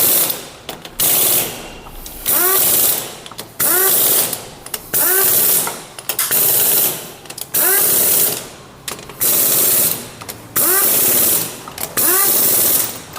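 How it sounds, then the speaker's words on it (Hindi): Impact machine tightening the engine chamber bolts on a TVS Apache RTR 200 4V during an engine rebuild, loud repeated bursts of rapid hammering, about eight separate runs each lasting around a second, with short pauses between. "हमने इम्पैक्ट मशीन के द्वारा बोल्टों को प्रॉपर तरीके से टाइट कर लिया है"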